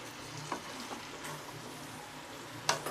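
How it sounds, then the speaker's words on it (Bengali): Red amaranth stems with sugar are stirred in a pan, a few scattered spatula scrapes over a soft, steady sizzle. "এবার চিনি দিয়ে আমি নেড়ে নেব"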